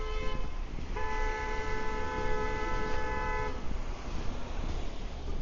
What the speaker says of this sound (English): I think that's someone's Uber getting honked at.